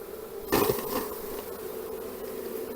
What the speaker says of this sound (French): Un cadre d'abeilles.